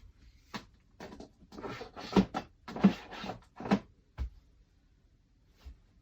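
A drawer in a craft room is opened and rummaged through while looking for paper punches, giving a handful of soft wooden knocks, slides and rattles at close range, with no speech.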